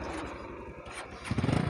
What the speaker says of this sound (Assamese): এতিয়া বাইক আমাৰ ষ্টাৰ্ট কৰিম। বাইক ষ্টাৰ্ট হৈ গ'ল অলৰেডি